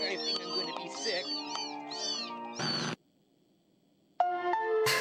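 Cat meowing in the horror video game Amanda the Adventurer 2: a run of several high, wavering meows, a brief pause, then more meows, loud and close.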